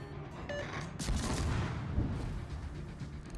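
Naval guns firing from a destroyer in World of Warships, a muffled fusillade of distant-sounding booms rolling over engine and sea noise, rising into a heavier cluster of blasts around the middle before easing off.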